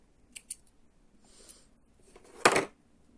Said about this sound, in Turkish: çift sararak düğüm atıyorum ve ipimi kesiyorum buradan